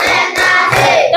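A school class claps hands in short counted bursts during an ice-breaking warm-up, loud and close, with voices chanting along between the claps.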